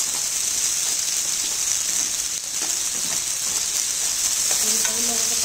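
Chopped onions fry in a pan for an egg curry, giving a steady, close, loud sizzle with faint stirring scrapes and no talk.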